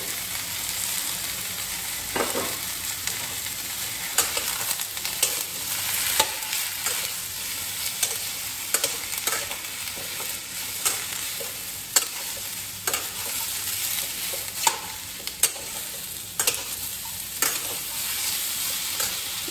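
Eggplant pieces fry in oil with a continuous hissing sizzle, while a spatula scrapes and clacks against the pan in frequent irregular stirs, close and fairly quiet, no voices.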